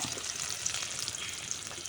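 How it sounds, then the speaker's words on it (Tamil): Chopped large onions fry in a pan with fenugreek and cumin for an orange-peel curry, giving a soft, continuous crackling sizzle heard alone for a brief moment. "இப்போ நறுக்கி வச்ச வெங்காயம் சேர்த்துக்கலாம்"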